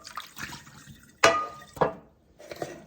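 Water is poured and splashed onto a rusty cast iron pan in a kitchen sink, with soft trickles followed by two sharp, close splashes and a fainter trickle at the end.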